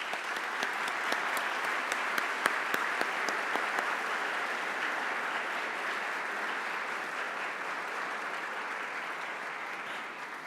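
An audience claps in honor of a generation of university students, the applause starting with sharp distinct claps and then filling into a steady even wash that fades slightly toward the end.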